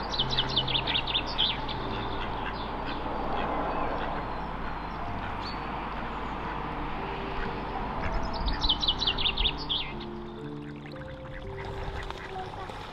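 Ducks at a pond in spring give repeated quacks and chirping calls in two bursts, at moderate distance over a steady outdoor background hiss.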